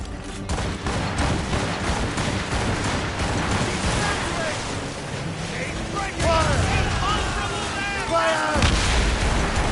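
Ship cannons firing in broadside during a naval battle in Assassin's Creed Rogue, a loud, dense barrage of booming blasts with crackling debris and whistling shots, under shouted commands and game voices.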